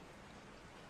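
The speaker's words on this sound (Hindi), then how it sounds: "बारिश की आवाज कमरे में गूंज रही थी" Steady rain falling indoors-audible on a stormy night, a dense even hiss with no talk over it, brief and fairly quiet.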